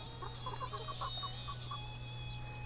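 Gauloise hens and a rooster cluck softly in a run of short, scattered calls at a moderate distance, over a steady low hum and background noise, with no talking.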